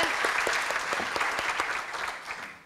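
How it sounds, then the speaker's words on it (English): An audience at an annual women's event hosted by a state senator claps in a dense, steady round of applause that fades slightly toward the end. "can we just give a big round of applause to Sue and her team for this amazing event?"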